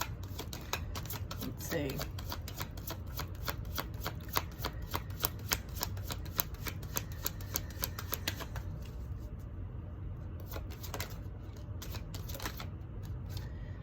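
Tarot cards are shuffled and drawn during a reading, a fast run of crisp riffling flicks for several seconds, then a pause and a few scattered card snaps, close, with a brief soft remark from a voice.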